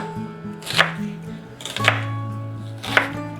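A knife chops an onion into large pieces on a board with three sharp, evenly spaced thuds about a second apart. A low steady hum sits underneath, and nobody speaks.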